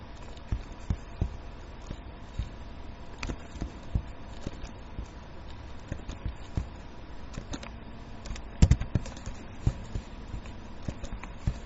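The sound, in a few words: typing on a computer keyboard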